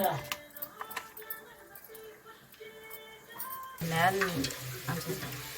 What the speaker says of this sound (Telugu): ఇప్పుడు డీప్ ఫ్రై కానీ నూనె కానీ వేడెక్కింది, వేసేస్తున్నాను